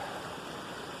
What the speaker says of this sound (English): Water's just coming out of the ground.